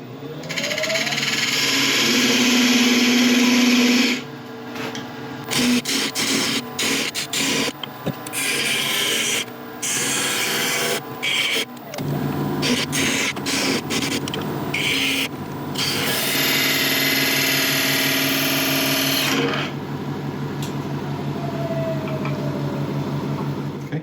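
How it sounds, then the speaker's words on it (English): A parting tool cuts into wood spinning on a lathe while captive rings and beads are turned, giving a sustained scraping, rasping whine broken by short pauses and bursts of contact, with one quieter stretch near the end. "I'm going to come back in again with a parting tool and just clear out some of this area"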